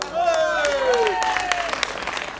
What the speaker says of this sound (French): Je vous demande aussi d'applaudir, mesdames et messieurs, l'Amérique très fort.